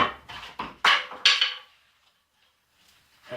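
Lumberyard chisel struck with a homemade wooden mallet while cutting wood, four sharp knocks in quick succession followed by a silence and another hit starting at the end.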